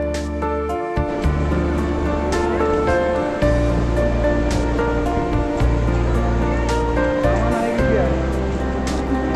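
Water rushing steadily below a mountain footpath on the way to Vasudhara waterfall near Mana village, a continuous broadband wash running under a voice talking throughout.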